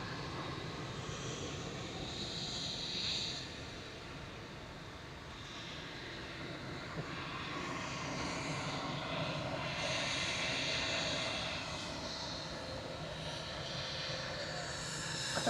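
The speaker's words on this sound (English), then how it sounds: "Junyao's the next to go, heading back to Shanghai with flight 1662. This is B207N 787-9 Dreamliner." Juneyao Boeing 787-9 Dreamliner departing Manchester Airport, a sustained jet engine roar that swells and eases slightly, at moderate distance and fairly quiet, with no talk over it.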